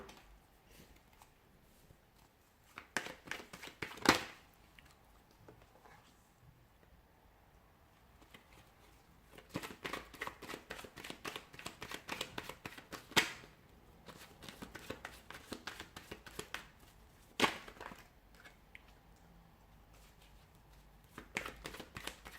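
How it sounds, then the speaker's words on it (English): Tarot cards are shuffled by hand in soft, close riffling bursts, some quick and crisp, others longer with light flicks, set against a quiet room. "Cards are just flying out."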